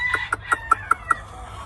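A Kearney White Hackle and Leonred cross chicken gives six evenly spaced, sharp clucks in quick succession, close and clear against a faint background.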